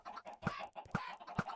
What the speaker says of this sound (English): I've obviously got all my chickens here.